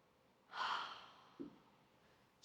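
Calm, deep breathing during a reclined twist in a yoga session, a soft airy inhale-exhale swell followed by a brief snort-like breath and a short hiss at the end, quiet and close.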